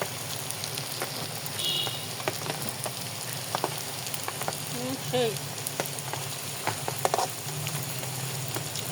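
Pointed gourd pakoras fry in oil with a soft, continuous crackle, and faint clicks and handling noises come through now and then.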